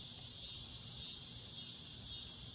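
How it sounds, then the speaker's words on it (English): A cicada buzzes in a steady, high, continuous drone with no breaks, clear and alone throughout. "That's a cicada."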